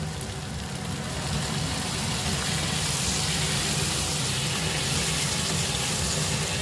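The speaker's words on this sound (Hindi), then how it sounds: "अब हम इसमें पानी ऐड करेंगे पानी हम बॉयल करके लेंगे" Boiled water pours steadily into a simmering mushroom gravy in a pan, a continuous loud rushing and sizzling wash lasting several seconds.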